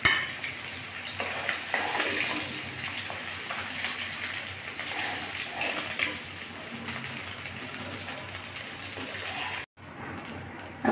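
Cumin seeds and bay leaves hit hot oil in a pan, where tilapia was just fried, giving a loud, continuous sizzle and crackle that cuts off abruptly near the end.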